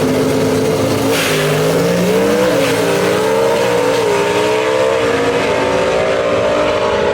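Gasser drag race cars roar down the Mooresville Dragway track, their engines droning loud and steady with rising, wavering pitch that swells and shifts as they power through the run.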